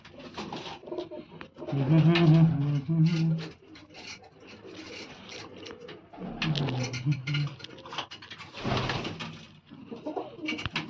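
Pigeons kept in a Punjabi rooftop loft, including a green-eyed hen, coo in low, throaty bursts, loudest in two clusters near the start and middle, with a voice talking intermittently over them.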